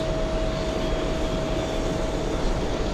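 A Delta Airlines Airbus A330 taxis toward the runway at JFK, giving a steady broadband jet roar with a faint constant whine. The sound is continuous and moderately distant, with no talking.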